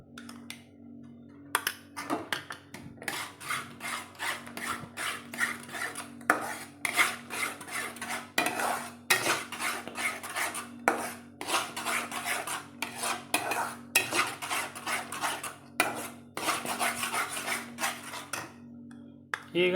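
A spoon scrapes and clinks steadily against a pan while pineapple halwa is stirred as it thickens, making close, busy metallic scraping with a faint background hum.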